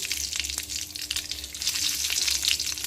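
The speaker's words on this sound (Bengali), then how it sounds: "তপসে মাছ আর আলু ভাজার তেলেই প্রথমে দিয়ে দেব কালো জিরে আর তেজপাতা ফোড়ন দিয়ে দিলাম" Nigella seeds and a bay leaf tempering in hot oil left over from frying topse fish and potatoes sizzle and crackle steadily up close, with small pops scattered through the continuous hiss.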